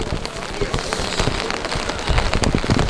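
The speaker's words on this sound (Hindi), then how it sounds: "बारिश हो रही है दोस्तों" Rain falls steadily on surfaces at a tourist spot in snowy Manali, a dense pattering with scattered louder drops and patter that grows slightly heavier toward the end, with no talk.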